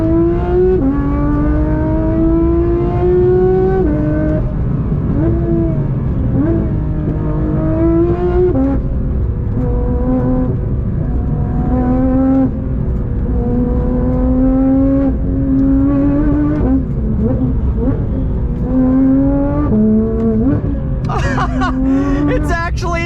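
A Porsche 992 GT3 in track mode accelerating hard, its engine note climbing steeply through gear after gear with sharp drops at each quick upshift, loud and close from inside the cabin.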